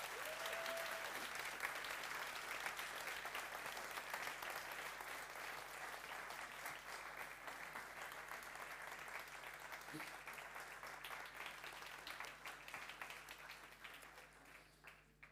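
Sustained applause fills a room at a TU Delft education day award ceremony as team leads of a mathematics team stand, a steady dense clapping that holds for about fifteen seconds before thinning slightly at the end.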